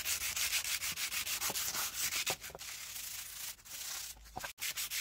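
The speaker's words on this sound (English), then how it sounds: "I'm gonna start with sanding it down with a very light grit sandpaper." Light-grit sandpaper is rubbed back and forth along the wooden handle of a Gränsfors Bruks Wildlife hatchet in quick, rhythmic strokes, close and steady with a few short pauses.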